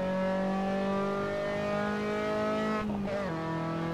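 An Austin Healey Sprite in the Assetto Corsa racing game screams at redline around Bathurst, a loud, steady high-revving engine note that dips briefly near the end as the gear changes.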